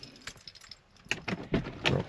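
A bunch of car keys for a 2007–2012 Nissan Altima jingles in a few bright metallic bursts as they are gathered and pulled away, close and alone with no talk.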